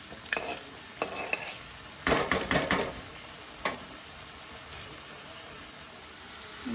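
Potatoes stirred and fried in a pan, a series of quick, sharp scraping clacks from a spatula over a soft, steady sizzle that carries on alone after the stirring stops.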